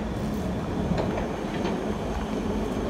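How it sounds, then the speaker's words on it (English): A London Underground Piccadilly line train rumbles at Arnos Grove station, a loud, steady roar of wheels and carriage noise heard from close by, with faint clicking over the rails and no voices. "This is a Piccadilly line service to Cockfosters."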